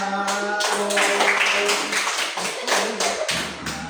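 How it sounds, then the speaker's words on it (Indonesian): A class of pupils at an elementary school claps together in a classroom, a dense patter of hand claps and taps that swells and then thins out over a few seconds, close and fairly loud. "terima kasih tepuk tangan"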